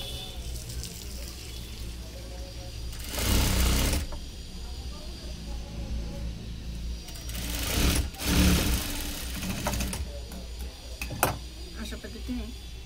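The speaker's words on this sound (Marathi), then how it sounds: "अर्धा इंच आणि 1 इंच असं फोल्ड करून 5 नंबरची शिलाई आपण इथं मारणार आहे." A sewing machine runs in two short whirring bursts as it stitches the folded hem of a blouse sleeve, with someone talking between and around the runs.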